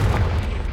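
The Confringo explosion spell goes off in Hogwarts Legacy as a single deep, heavy boom that stays loud and rumbling through the whole short moment, with no voices.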